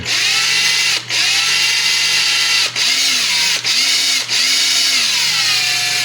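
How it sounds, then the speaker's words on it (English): A cordless drill with a 3/32 inch bit bores into a 3D-printed leg, a loud close high whine in several bursts, dipping in pitch under load and with short pauses between runs. "I got a 3/32 inch drill bit in my drill. I'm going to drill a hole in this leg."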